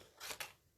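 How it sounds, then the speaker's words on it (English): Scissors snip through a paper rectangle being trimmed to size, two quick close cuts in a row, soft and alone with no talking. "Let me just grab my scissors and trim this down so it fits in the machine."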